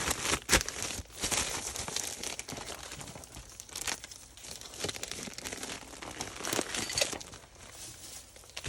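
Paper or plastic mailer crinkles and rustles repeatedly as a parcel slides into a flat rate envelope, close and moderately loud with several crunchy bursts and no talking.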